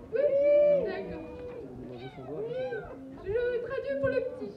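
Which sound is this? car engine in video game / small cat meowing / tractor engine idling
small cat meowing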